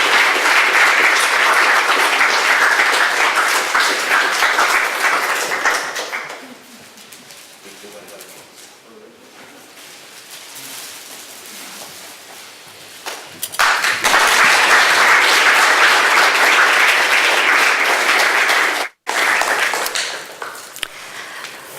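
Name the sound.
applause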